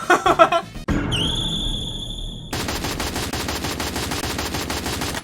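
Rapid automatic fire from an M4A1 rifle in the Free Fire game, a dense fast-rattling stream of shots near and loud, broken by a brief tonal game effect before firing resumes and continues to the end.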